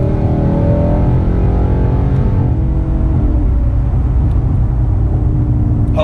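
Loud, steady engine roar from inside a 2017 Mustang GT with a Corsa Extreme cat-back exhaust, droning deep as the engine is held under load, with no talking.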